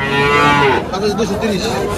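Cattle at the historic Tepakhola cattle market in Faridpur give a loud, close moo lasting under a second, followed by a murmur of market voices and further low animal calls.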